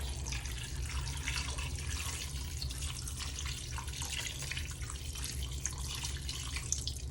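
Water poured from a container into a pot of beef caldereta on the stove, a faint continuous splashing trickle with low kitchen hum beneath, no voices.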